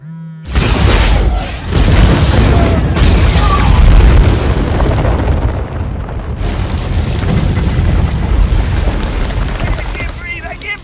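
A massive explosion in a Marvel film scene, a loud roaring boom that rumbles on with crashing debris and collapsing rubble for several seconds, with voices faintly mixed in.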